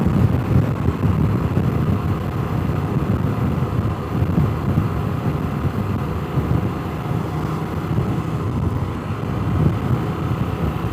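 Steady low roar of wind buffeting the microphone on a bridge during a motorcycle ride, continuous and fairly loud, with no voices.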